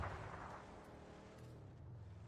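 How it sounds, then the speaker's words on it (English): Distant gunfire echoing from down a hill in the battle royale game PUBG, low rumbling bursts under a steady background of game ambience, fairly faint. "is he going to turn his attention to those gunshots he heard down the hill?"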